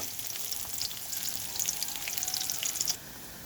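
Milkfish (bangus) fries in a pan with crackling, spitting sizzle. Bursts of sharp pops come close together before dropping to a quieter hiss near the end.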